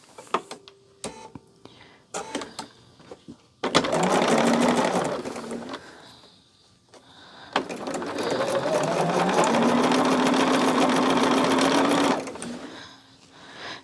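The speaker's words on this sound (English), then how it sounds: "we're just going to sew and make these rows of 4" Sewing machine stitching quilt block pieces into rows of four, running in two long steady bursts of fast mechanical whirring, close and loud, with scattered clicks and handling noises between runs.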